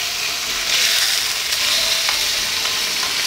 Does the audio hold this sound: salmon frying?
yes